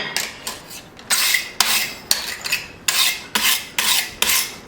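Quick, rhythmic wire-brush strokes scrubbing scale off a forged steel cleaver, about a dozen close, rasping scrapes in steady succession.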